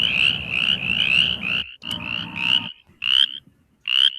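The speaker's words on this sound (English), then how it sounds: "Kind of reminds me of the mountain chorus frog just a little bit." A frog resembling a mountain chorus frog calls in a rapid series of raspy trilled croaks, loud and close, repeating in bursts with short pauses between them.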